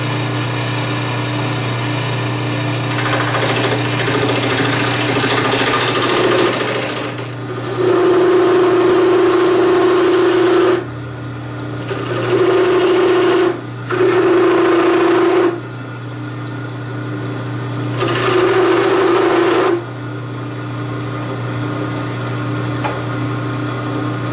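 A power carving tool with a medium gouge whirs against wood in several bursts, starting and stopping with short pauses between runs over a steady background hum.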